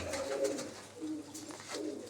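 Large pigeons in a loft coo softly and continuously, several low overlapping calls blending into a steady murmur with no talking.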